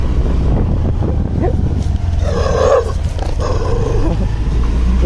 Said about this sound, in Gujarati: ગાઈસ બધા કૂતરા આવ્યા